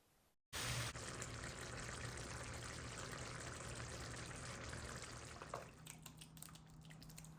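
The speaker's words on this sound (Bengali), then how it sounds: "এখন একটু গরম পানি দিব" Hot water is poured into a simmering curry, a continuous close rushing pour that starts abruptly and runs steadily with light splashing toward the end.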